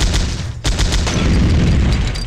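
Rapid bursts of in-game gunfire from the retro shooter Powerslave Exhumed, loud and continuous, with a string of sharp shots and booms running over a dense, noisy game soundscape with no talk.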